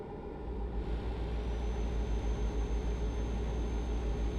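A big-rig semi-truck cruises through France in the Euro Truck Simulator 2 video game, its engine a steady, moderately quiet low drone with faint high-pitched whine, no speech.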